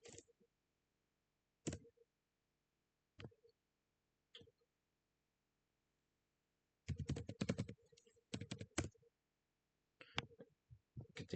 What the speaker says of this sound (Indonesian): Nah, kita ketikkan sudo su.